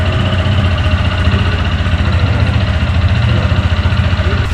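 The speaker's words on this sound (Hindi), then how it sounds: "अच्छा, इसका एग्जॉस्ट साउंड हमें आप सुनवाइएगा। ये है इसका एग्जॉस्ट साउंड" A CFMOTO NK 150cc-class motorcycle exhaust idling up close, a deep, steady, rapidly pulsing bassy thrum held evenly throughout.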